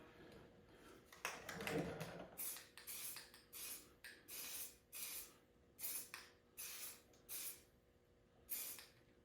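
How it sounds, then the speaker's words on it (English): A series of short bursts of aerosol graphite dry spray onto a cast iron mold, about eight quick hisses in an uneven rhythm, close by, following a brief rustle at the start. "Just going to spray this on."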